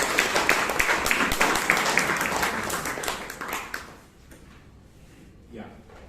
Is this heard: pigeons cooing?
no